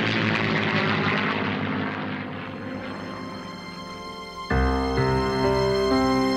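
A Spitfire propeller fighter, one of two still flying in Australia with the Temora Aviation Museum in New South Wales, drones loudly overhead; its engine tone swells and shifts as it passes, with no talk.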